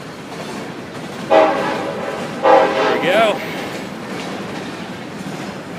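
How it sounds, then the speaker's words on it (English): BNSF freight train passing close by, its horn sounding in two strong blasts over a continuous rumble of rolling cars, with a brief spoken remark. "That's the Burlington North Santa Fe train."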